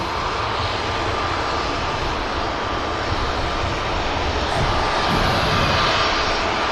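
Aircraft engines roar steadily at Manchester Airport, a loud continuous broadband rumble that holds level throughout with no voices.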